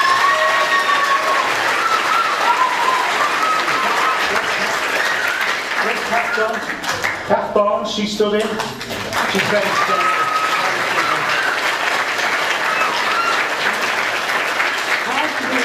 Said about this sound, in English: Big round of applause for Tony.